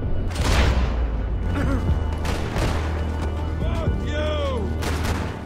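Gunfire in the video game Max Payne 3, repeated sharp shots and booms over a low rumbling backdrop, with brief voices in between.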